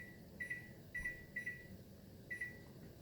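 A kitchen timer is set for two minutes while homemade vanilla pudding is cooked, giving four short high electronic beeps in an uneven sequence, faint over steady room noise with no talking.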